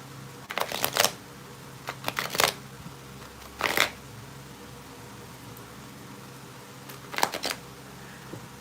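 Tarot cards are shuffled in several short, crisp riffling bursts separated by quiet pauses. The sound is close and moderately loud over a faint background hum.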